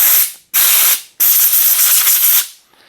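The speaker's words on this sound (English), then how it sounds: "So first thing I'm going to do is use air," Compressed air blasts out of a knife mechanism on an Ultratech ZBP during disassembly, three loud close hissing bursts: two short, then a longer sustained blow before it cuts off.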